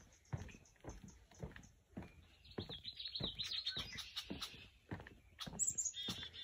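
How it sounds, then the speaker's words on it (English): Several birds chirp and sing in bright, quick phrases, fairly close, in a wildlife sanctuary swamp, over soft intermittent thumps of footsteps on a boardwalk. "You hear all the birds?"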